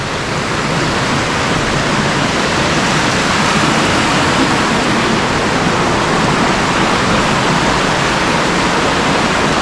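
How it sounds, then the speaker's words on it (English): Sheep Cave Falls roars below the creek on the Virgin Falls loop in Tennessee, a loud, dense, unbroken rush of falling water that stays steady throughout. "And then flowing right down there to the waterfall."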